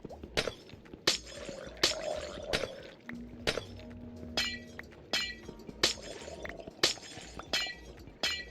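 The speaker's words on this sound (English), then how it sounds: "that annoying breaking glass sound in Minecraft" Minecraft glass blocks being broken one after another, a steady run of sharp shattering crashes about every half second, close and loud, with faint background tones and no talk.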